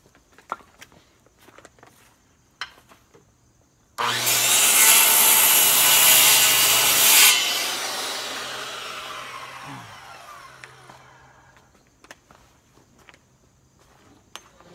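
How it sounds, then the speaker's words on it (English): A circular saw bites into wood while building a microwave stand: a loud, close burst of cutting lasts about three seconds, then the blade whines down over a few more seconds, with scattered light knocks before and after. "we'll drop the circular saw in to the both points, and then we'll take the jigsaw around"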